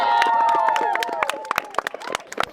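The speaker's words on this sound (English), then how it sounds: "Give a round of applause" A crowd at a park centenary re-enactment event claps in a dense burst of applause, with voices calling and cheering over it before the clapping thins into scattered claps.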